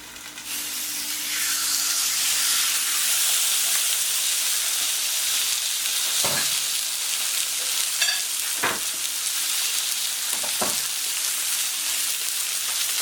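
Loud, continuous sizzling and crackling of onglet steak frying on a hot griddle plate, with a few soft knocks and clinks mixed in.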